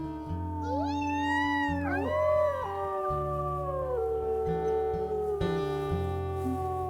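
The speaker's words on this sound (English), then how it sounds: "Let's go ahead and do our morning howl as well." A wolf pack in the video game WolfQuest lets out its morning howl: several long, overlapping howls rise and fall together over a steady musical backdrop, loud and sustained throughout.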